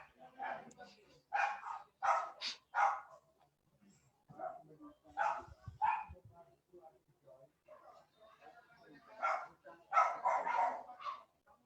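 Dogs bark in repeated clustered bursts of barks and yips, quiet and somewhat distant, with brief gaps between the bursts.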